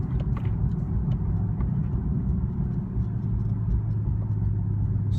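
A manual car engine drones steadily from inside the cabin after a shift into fourth gear, a constant low rumble with no break or sharp rise in pitch.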